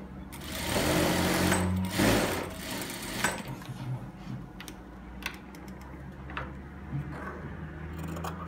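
A sewing machine stitches a zipper placket, running in a loud close burst for about two seconds, then giving quieter intermittent stitching and clicks as the fabric is turned.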